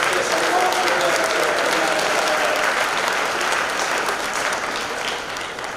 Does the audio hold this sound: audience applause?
yes